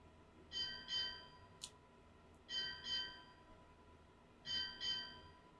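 A ship's bell strikes eight bells in four paired rings, each pair a quick double clang with a short gap between pairs, clear over a low background hum.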